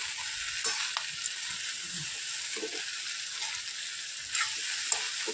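Green moong with vegetables being stirred with salt in a pan, giving a steady soft sizzle with light scraping strokes of the spoon throughout, close and even.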